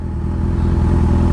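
Honda CB1000 motorcycle engine running loud and close, a continuous low throbbing rumble with slight revving, with no other sounds over it.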